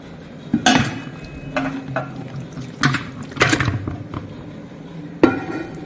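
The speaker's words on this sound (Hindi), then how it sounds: "जो मटन है वो डालेंगे।" Raw mutton goes into a deg, a heavy cooking pot, for Hyderabadi biryani. There are several sharp metallic clanks and thuds with wet slapping in between, close and fairly loud, and no talking.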